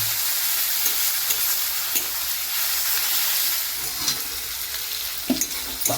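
Ginger-garlic-salt paste sizzles steadily in hot oil for an egg curry, with a continuous bright frying hiss and intermittent scraping stir strokes of a spatula against the pan, close and without voices.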